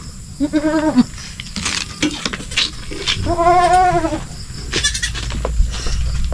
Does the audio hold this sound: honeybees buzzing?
no